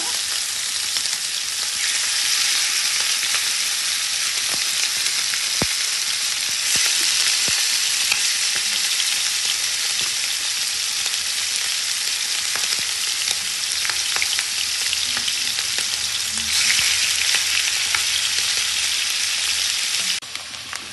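Marinated chicken fries in a pan for a home-style chicken curry, a loud, steady broadband sizzle running the whole time with occasional crackles and pops, close up and without talk.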